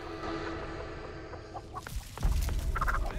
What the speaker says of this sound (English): Forgot about the chicken again